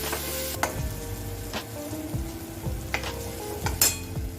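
Spice paste for misal cooking in oil in a pan, a soft sizzle under several distinct clanks and scrapes of a spoon against the vessel, close and fairly quiet, with no voices.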